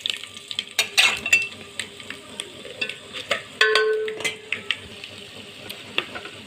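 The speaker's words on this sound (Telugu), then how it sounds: "వీటన్నిటిని కొద్దిసేపు బాగా వేగనివ్వాలి." Dal with dry and green chillies fries in oil for pulihora, a crackling sizzle punctuated by sharp clinks and scrapes of a spoon against the pan.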